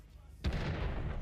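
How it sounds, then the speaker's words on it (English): A single heavy shot booms in a competitive 7v7 tank video game match, a sudden deep blast that rolls on with a rumbling decay under faint background commentary. "Is Tank Killer gonna get this shot?"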